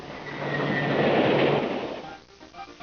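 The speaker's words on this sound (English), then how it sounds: "I think there is a train approaching." A cartoon train approaching on railroad tracks, a rumbling roll with clattering wheels that builds to a peak and then fades, a faint whistle-like tone running through it, with no voices.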